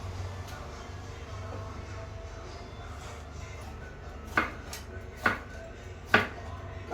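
Knife chopping chow chow, carrot and potato for a coconut milk kootu, with three distinct sharp chops on a board standing out late against a low background hum, no talk.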